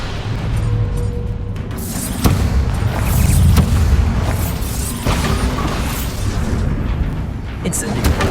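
Loud booming blast effects from the Bombarda explosion spell in Hogwarts Legacy, a dense rumbling roar with sharp hits around the second and fifth seconds, continuous and close throughout.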